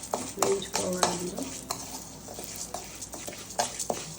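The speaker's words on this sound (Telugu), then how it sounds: "పెసరపప్పు ఇలా మరీ బాగా వేయించుకోకుండా మామూలుగా వేయించుకోవాలండి." Moong dal roasting in a pan for sweet pongal: scattered light scraping, stirring clicks and soft sizzling, moderately close and fairly quiet, with no voice audible.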